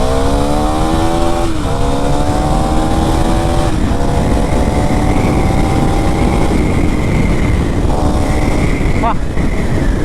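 A KTM Duke 390 motorcycle engine in poor condition revs hard toward full RPM, a loud continuous rising whine with rhythmic throttle surges, close to the listener and sustained throughout.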